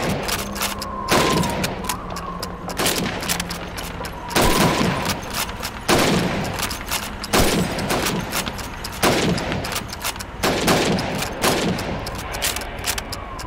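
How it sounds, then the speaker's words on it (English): Rifle shots fired at helmets on a timed Soviet training range in Call of Duty 2 (2005), a series of loud, sharp cracks spaced about every second or two, each with a brief mechanical follow-up amid faint background noise. "You have 15 seconds to shoot the helmets."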